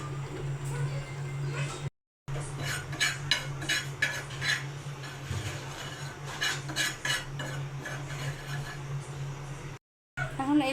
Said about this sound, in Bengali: গরম তাওয়াতে 2 চামচ জিরা গুঁড়ো দিয়েছি। এগুলো একটু টেলে দিব